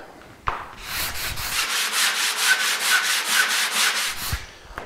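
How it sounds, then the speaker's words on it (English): Steady back-and-forth strokes of a sanding block rasp over thin wooden strips in an even, quick rhythm, close and fairly loud, with no talking. "take my sanding block and sand it smooth and slightly taper it towards the end"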